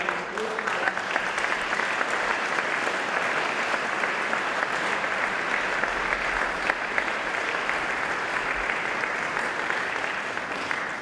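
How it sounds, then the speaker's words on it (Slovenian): Steady, sustained applause from a large audience at a New Year's gala concert in the Posavje Museum Brežice, dense clapping that continues evenly for around ten seconds. "Njemu pa prosim namenite aplavz"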